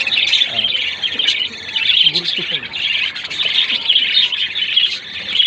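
Budgerigars chirp continuously while eating corn, a dense, loud chatter of high tweets filling the scene, with a voice speaking briefly underneath.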